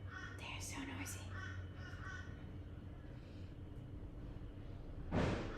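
Noisy crows caw repeatedly in the distance, a few harsh calls early on, beneath a faint background hum, followed by a brief louder rustle near the end.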